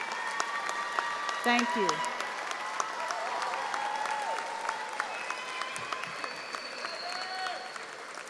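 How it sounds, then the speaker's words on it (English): Audience at a North Houston Early College High School graduation applauding parents, grandparents and guardians: steady, broad clapping from a large crowd filling the hall, with a brief spoken thanks over it. "We applaud you for your sacrifice, for your love and support."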